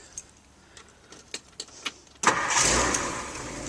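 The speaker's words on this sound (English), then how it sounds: "Car started right up." Keys jingle and click faintly before a 1962 Ford Galaxie 500 engine cranks and fires at once, settling into a quiet, smooth idle close by.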